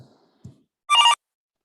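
A telephone rings once during an online meeting, a short bright electronic trill after a few faint low murmurs, then silence.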